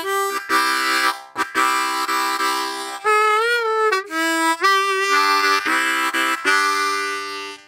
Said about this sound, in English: we go back to the original bending riff and the original shuffle